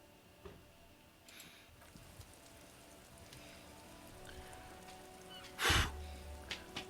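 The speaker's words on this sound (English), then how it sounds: "This rain will not let up anytime soon." Steady rain falls throughout a scene in the video game Disco Elysium, a soft continuous hiss with faint scattered ticks and one brief louder burst near the end, no voices.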